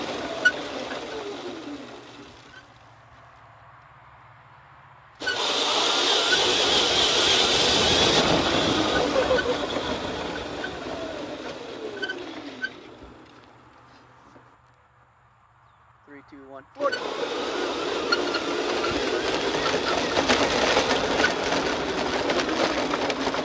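Electric go-kart running at about 197 volts, its motor whining up in pitch as it accelerates hard, dropping off, then surging again, loud and close with wind rush and occasional voices over it.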